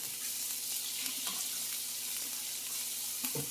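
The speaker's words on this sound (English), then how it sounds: "rinse off a spoon" Water runs steadily from a kitchen tap as a spoon is rinsed beneath it, a continuous close hiss with a few light clinks near the end, no talking.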